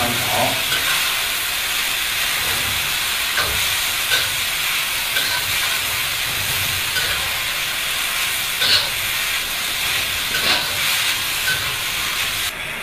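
Shredded potatoes are stir-fried in a hot wok for a vinegar potato-shred dish, giving a steady, loud, close sizzle that runs unbroken throughout with a few faint scrapes and no talking.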